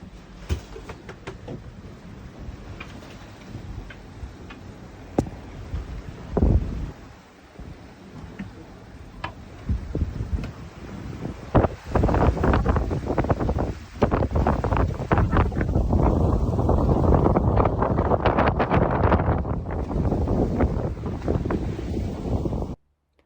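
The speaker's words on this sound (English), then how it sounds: "you can see the wind has picked up significantly. We're sailing upwind into a force 4" Wind gusting on a sailboat heading upwind into a force 4 breeze, buffeting roar that swells and grows louder and fuller in the second half, with water sounds beneath.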